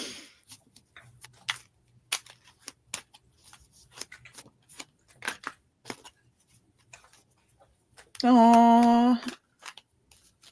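Tarot cards shuffled by hand, a run of soft irregular riffling clicks and flicks up close, with a brief loud tonal burst partway through and a short spoken interjection.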